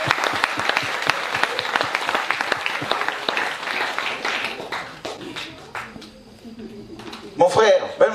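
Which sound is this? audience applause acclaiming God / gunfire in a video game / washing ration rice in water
audience applause acclaiming God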